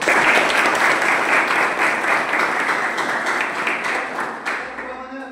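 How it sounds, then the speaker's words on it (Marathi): Sustained applause from an audience, dense clapping that holds steady and slowly fades toward the end. "सरांसाठी एकदा जोरदार टाळ्या झाल्या पाहिजे"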